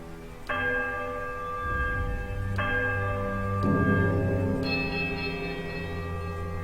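Heavy, thick iron bells in the video game Pillars of Eternity ring out one after another, four distinct clear strikes each leaving a long ringing tone that overlaps the next.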